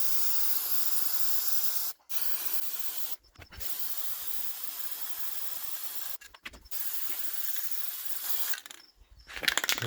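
A spray paint can hissing white paint in long, steady bursts in a garage, interrupted by a few brief pauses between sprays.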